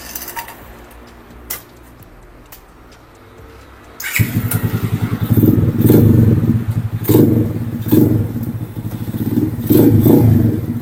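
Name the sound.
Gazgas Gorilla 100cc mini motorcycle engine running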